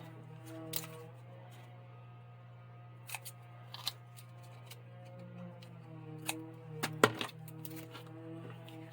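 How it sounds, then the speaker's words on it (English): Scissors snip several times at the corners of a hard cover file folder, giving sharp, quiet clicks at irregular intervals against a low background hum. "Snip off a little bit on these corners too."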